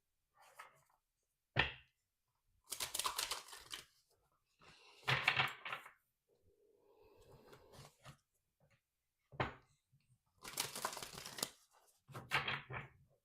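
Tarot cards are shuffled and handled in close, quiet bursts of riffling, tapping and soft slaps separated by short pauses, with a faint murmur between some bursts.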